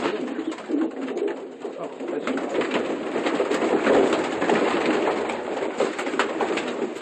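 Young pigeons coo softly in a loft amid a dense, continuous chorus of bird sounds and rustling, with a brief voice heard near the start.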